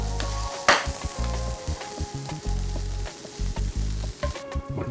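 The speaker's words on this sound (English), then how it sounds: "I'm gonna go ahead and give it a little stir" Corn sizzles in a hot pan and is stirred. Scraping stirs come in an irregular rhythm over a continuous close, crackling fry, and there is no talk.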